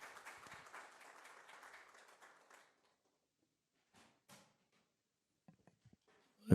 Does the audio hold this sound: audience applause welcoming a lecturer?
yes